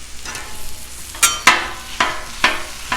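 Just over a pound of 85/15 ground beef fries in a pan with a little peanut oil, sizzling steadily under sharp, repeated scrapes and knocks as a utensil chops and stirs it.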